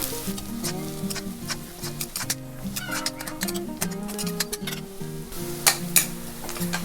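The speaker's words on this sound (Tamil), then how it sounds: "வெங்காயம் நல்லா வதங்கட்டும், அப்போ தான் வாசனை நல்லா இருக்கும்" Onions fry in a pan with a steady sizzle and crackle, scattered pops, and a background of music-like tones throughout.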